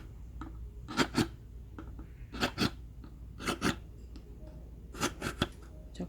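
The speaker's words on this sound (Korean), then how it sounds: "병 뚜껑을 꽉 닫아 주시고 구멍을 5개 뚫겠습니다" A plastic PET bottle cap screwed on tight gets five holes punched in it, heard as clustered sharp scratchy crunches and rasps in several bursts, close and moderately loud against a quiet background.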